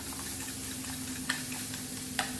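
Food browns in a frying pan for a 1940s hard-times omelette, a steady soft sizzle with faint crackle and a couple of small clicks from stirring, with no talk.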